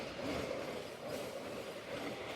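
A Vande Bharat Express passenger train rolling past a railway crossing, a steady rushing roar with faint wheel clatter, heard from inside a moving local train, fairly quiet and continuous without speech.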